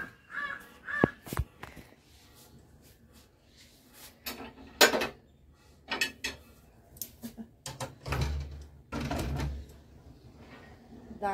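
A raven caws repeatedly in the morning, sharp harsh calls in irregular bursts, some close and loud, others fainter, mixed with scattered clatter and knocks.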